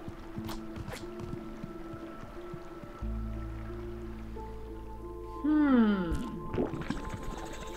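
Gentle game-world water in Chicory: A Colorful Tale, soft dripping and trickling layered with tonal musical notes and a rising, chiming melodic phrase partway through, steady and moderately quiet.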